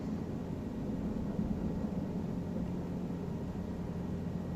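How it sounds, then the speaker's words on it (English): Cabri G2 helicopter hopping between pads, heard as a steady low droning rotor and engine hum from inside or close by, constant and unbroken with no talking. "Pad hopping. Helicopter pad hopping."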